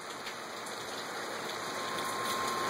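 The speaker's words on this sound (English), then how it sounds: "we got a fairly steady rain coming down" Steady rain falling on a cool, wet August day, a continuous even hiss of drops on surfaces that holds at the same moderate level throughout, with no voices.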